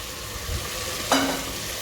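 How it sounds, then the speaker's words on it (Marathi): Ground masala is stirred into softened tomatoes in a pan over steady frying sizzle, with one brief scrape of the spoon partway through; no voices. "आणि तो चांगला मिक्स करून घ्यायचा आहे हे बघा हा मसाला आपला चांगला मिक्स झाला आहे"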